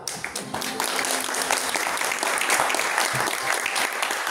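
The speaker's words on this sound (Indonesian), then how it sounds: "Atau lebih jelas tepuk tangan." Church congregation clapping hands during a motivational sermon, a dense rising wash of applause that stays steady and strong, with faint voices underneath.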